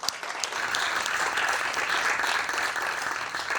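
An audience at a conference talk applauds the event sponsors, a dense, steady clapping from a room full of people that holds at an even level throughout.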